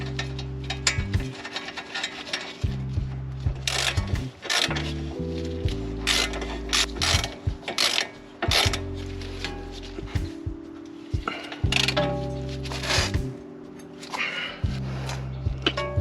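Hand ratchet tightening a castle nut on a tie rod end of a 2010 Toyota Camry, repeated quick clicking strokes in uneven bursts with brief pauses, close and clear.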